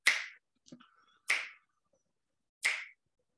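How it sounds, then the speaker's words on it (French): Sharp, crisp finger snaps ring out, three of them evenly spaced about a second and a quarter apart, close and clear against silence, with a faint soft clatter between the first two. "Puis on inspire sur 5 claquements de doigts."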